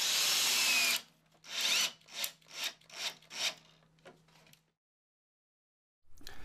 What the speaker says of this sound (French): Vous fixez ces plaques de ciment avec d'autres vis que pour les plaques de plâtre.